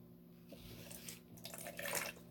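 Water is poured slowly into a container while setting up a Venus flytrap kit, starting as a quiet trickle and building to a stronger, close, splashy stream toward the end.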